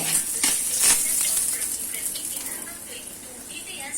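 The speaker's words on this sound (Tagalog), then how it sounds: "ilalagay ko na ang bawang. Haluin na natin." Garlic sizzles in a hot pan with a steady, bright hiss while a utensil stirs it, leaving a few soft scraping strokes near the start; the frying stays close and moderately loud, then eases off slightly toward the end.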